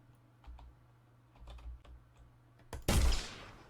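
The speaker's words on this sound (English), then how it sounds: "let's just try shooting that zombie" A single loud, sharp gunshot in an Unreal Engine 5 zombie game test rings out near the end with a fading tail, preceded by soft scattered keyboard and mouse clicks.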